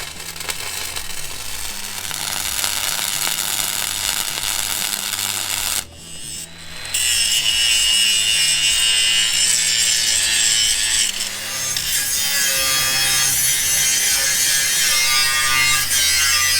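A power tool cuts side pieces for a car trailer deck extension, giving a loud, continuous buzzing, grinding whine that briefly dips before resuming even harsher.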